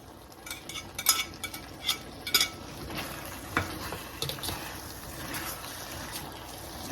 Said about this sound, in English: So we're gonna add our meat back to our skillet.